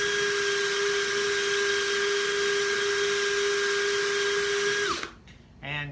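A wooden dowel for a king-size bed frame is being power sanded: a loud, steady high-pitched tool whine runs unbroken for about five seconds, then spins down and cuts off, leaving a short rustle.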